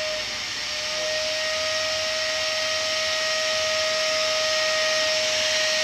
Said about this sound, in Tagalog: Rinig nyo yan, ang ingay ng vacuum.